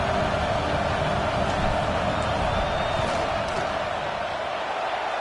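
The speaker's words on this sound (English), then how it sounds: "This crowd trying to do its part to get in" Football stadium crowd at a college game, a steady loud roar filling the whole span as a field goal is attempted, with a faint whistle-like tone and scattered shouts rising slightly midway.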